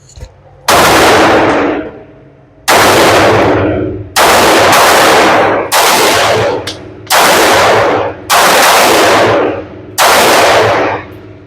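Seven loud, sharp shots from a Palmetto State Armory Rock 5.7x28 pistol at a target range, fired one at a time at roughly even intervals about a second and a half apart, each with a short decaying tail.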